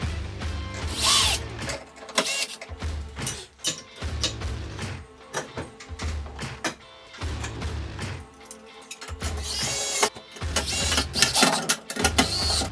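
Screws are driven into a ceiling fan mounting bracket with repeated ratcheting, clicking mechanical bursts in uneven spurts, close and without talk.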